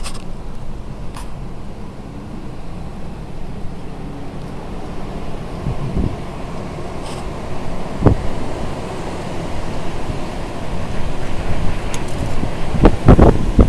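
Steady, broadband wind roars across the whole clip, blowing sand and gusting stronger toward the end, with faint surf-like rushing underneath and no voices.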